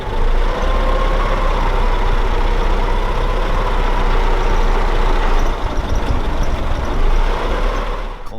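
Engine of a 1915 Ford Model T Runabout running on a dyno, a loud steady low rumble with a rattling chug, held close and even before easing slightly near the end.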